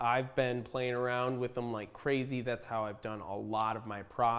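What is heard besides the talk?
No everyday noises stand out.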